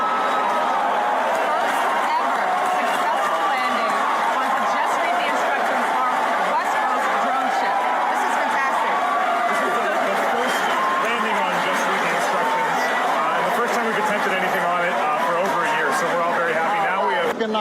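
A dense, continuous crowd roar of cheering and chatter fills the air as a rocket's first stage lands on the droneship Just Read the Instructions after a single-engine landing burn, loud and unbroken throughout.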